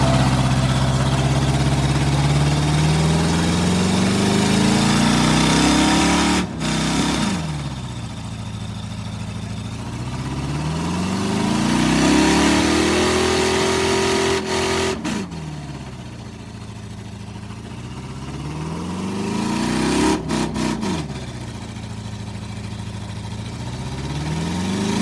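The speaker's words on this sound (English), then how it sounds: "Do we try to rip a fat burnout?" A budget-built burnout truck's engine idles and revs repeatedly, rising and falling in long, loud swells with brief dips between pushes, heard up close with no talking.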